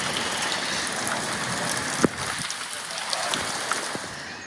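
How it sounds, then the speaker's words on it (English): Heavy rain falls steadily on a garden, a dense, even hiss with a few sharper drop taps standing out near the middle. "We've had some really heavy rain, which has watered the garden beautifully."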